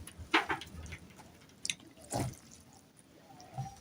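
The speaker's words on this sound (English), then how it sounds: "just straining the pasta." Water splashing and dripping as cooked pasta is strained in a kitchen sink, faint, with a few brief splashes and drips.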